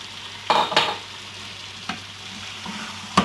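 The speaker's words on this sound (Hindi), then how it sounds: "अब हमने टिंडों को अच्छी तरह मसाले में फ्राई करना है 5 मिनट के लिए" Tinda pieces fry in masala in a pan, a low steady sizzle punctuated by a few sharp stirring clinks and scrapes of a spoon, close and without talk.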